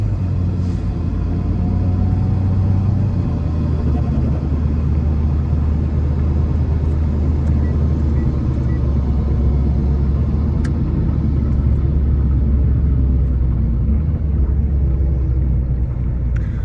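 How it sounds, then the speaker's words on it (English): A constant low droning rumble inside a moving car, steady and loud throughout with a faint whine riding on top, from rear differential ring and pinion noise during testing of a rebuilt DCT 470 transmission. "so a lot of that ring and pinion noise is working its way"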